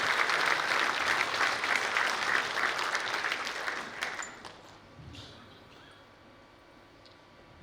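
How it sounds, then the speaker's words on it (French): Audience applause at a New Year's greetings address in Montignac, dense and steady clapping from a hall full of people for about four seconds, then thinning out and fading into quiet room tone. "Vous pouvez applaudir effectivement"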